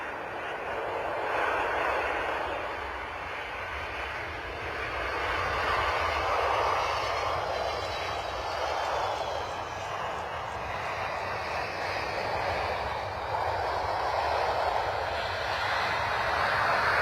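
An aircraft arriving inbound at London Stansted Airport, its engine roar swelling and fading in broad waves as it passes, loud and sustained with no talk.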